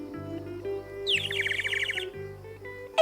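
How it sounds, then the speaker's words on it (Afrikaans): Birds chirp and trill in a forest in an animated series, a bright rapid run of tweets over soft background music, close and clear, ending with a short sharp call. "En 'n paar voëls."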